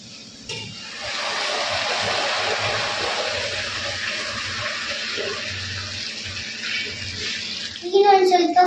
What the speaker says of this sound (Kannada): ಇವಾಗ ನೀರು ಹಾಕೋಣ. ಉಪ್ಪಿಟ್ಟಿಗೆ ಬಿಸಿ ನೀರು ಹಾಕಿದ್ರೆ ಬೇಗ ಬೇಯ್ತೈತೆ.